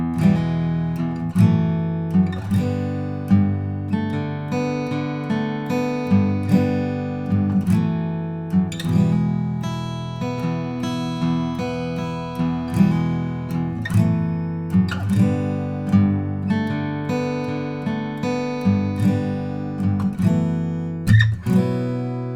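Guitar intro, picked in a steady rhythmic pattern of plucked chords and single notes, clear and close, played alone with no talking.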